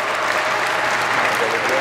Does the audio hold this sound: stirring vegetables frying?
no